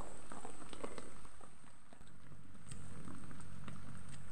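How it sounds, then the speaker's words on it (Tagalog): Rain patters softly on a surface on a farm, with scattered sharper drips and taps, a steady, fairly quiet wash throughout. "Umuulan. Maganda po yan. Umuulan."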